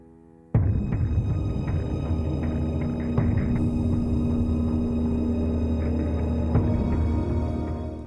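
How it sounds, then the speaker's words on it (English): A sewing machine starts abruptly and runs with a steady mechanical hum and rapid rhythmic whirring, close by and continuous for several seconds, no talking. "Then I run the traced pin down line of chalk through my sewing machine."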